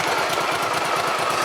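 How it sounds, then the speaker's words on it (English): A Honda PC800 motorcycle engine runs steadily at idle in a motor shop, a close, loud, even mechanical rumble with a fast regular pulse that holds through the whole stretch. "So I'm just going to start the bike up here"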